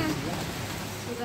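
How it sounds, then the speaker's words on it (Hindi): Heavy rain pours down steadily in a dense, even wash of noise, close and fairly loud, with no break across the short stretch. "अभी यहाँ पे बहुत बारिश हो रखा है"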